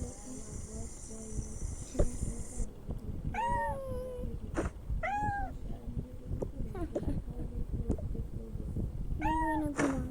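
A domestic cat meows several times, with a few short, rising-and-falling calls spread across the stretch, close by over steady background noise and faint voices.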